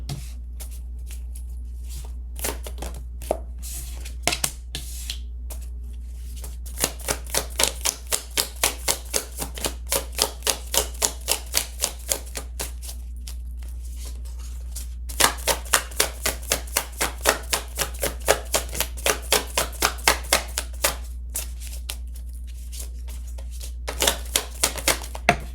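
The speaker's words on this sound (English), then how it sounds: "quite a few cards actually fell on the floor" Tarot cards being shuffled in quick bursts of crisp riffling clicks, pausing between runs, with several cards dropping to the floor, set over a steady low hum and no talking.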